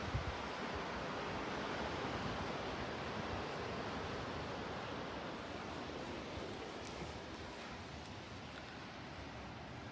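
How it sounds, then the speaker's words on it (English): Ocean waves washing onto a shore on a cold day, a steady broadband roar of surf with a soft wind rush. The sound is continuous and fairly even, with no voices. "the ocean was so peaceful, which is why I wanted to let you hear it"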